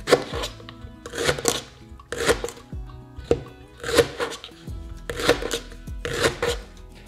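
A knife chops leek on a cutting board in a steady series of crisp, close thuds, roughly one stroke per second, with soft rustling between cuts.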